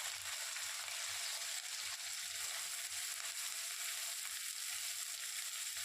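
Chopped onions and green chilli frying in a pan for egg tadka, stirred with a spatula: a soft, continuous sizzle with faint low scraping thumps scattered through it, fairly quiet and steady, with no talking.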